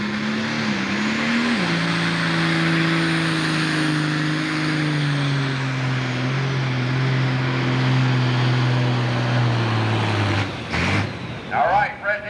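A Pro Stock pulling tractor roaring down the track at a 1995 Crown Point, Indiana tractor pull, one loud sustained engine drone whose pitch slowly sinks before cutting off with a few clunks.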